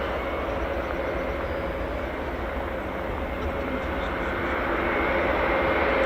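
An RC-135 reconnaissance aircraft flies past at an air show, a steady, loud jet roar that swells slightly toward the end with no break in the sound.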